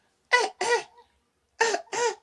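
Two pairs of sharp, close coughs, each a quick double burst, separated by a short silence.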